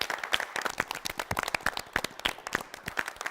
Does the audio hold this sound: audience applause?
yes